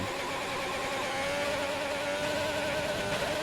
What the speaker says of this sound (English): His car's making some weird noise.